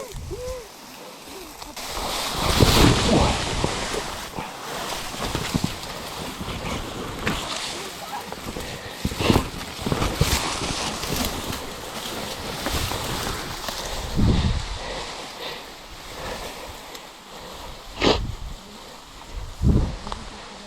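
Takhilo Falls, a waterfall in Guam reached by a hike, flows with a steady broad wash of falling water and splashing, overlaid by people's excited voices and brief gusts or rustles nearby.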